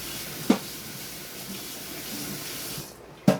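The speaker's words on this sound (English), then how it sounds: "I'm rinsing this spoon off." Running tap water rinsing a spoon in a kitchen sink, a steady close splashing hiss with two sharp clinks of metal against the sink.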